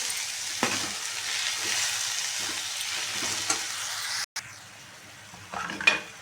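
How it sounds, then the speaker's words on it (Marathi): Grated coconut and jaggery are sautéed in a pan for sweet modak filling, giving a steady close sizzle with scraping stirs, a brief cut near the end and a sharper clink just before it stops. "गूळ पण छान असं मस्त परतून घ्यायचं आहे"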